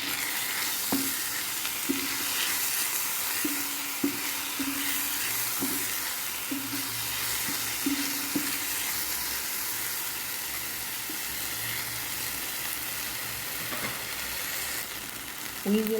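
Dried adas lentils going into a pot for lamb majboos, with steady sizzling and stirring clatter and a few scattered knocks and taps over a continuous cooking hiss.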